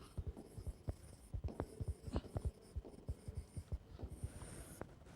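Handwriting a C program, likely pen or pencil on paper, gives a close, faint run of short scratching strokes in an uneven rhythm over quiet hum, with no talking.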